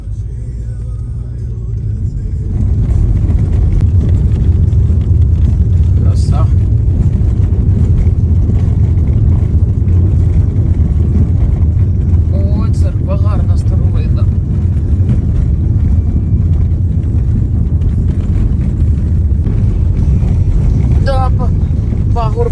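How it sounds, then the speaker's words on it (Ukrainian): A car ploughing slowly along a deep muddy unpaved village track, a heavy constant low engine rumble with sloshing underneath, loud and close, while people talk over it now and then. "Плаває, плаває машина в грізюці."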